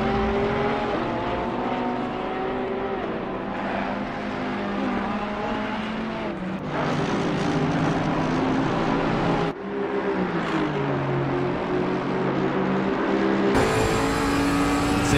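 Racing cars in the Assetto Corsa Competizione sim at Brands Hatch, with a Bentley and a Porsche battling, roar continuously at high revs, pitch rising through gears with abrupt shift drops, loud and close with no voices.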